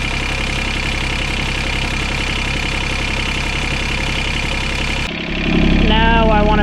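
Reels of a John Deere 2653A mower spinning, driven by its three-cylinder Yanmar diesel, a loud steady mechanical whirr and rattle that shifts pitch near the end as the engine note changes.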